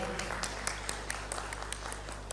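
Audience clapping for a school team at an education innovation award event, a faint, thin patter of scattered claps over a steady low hum, with no talk.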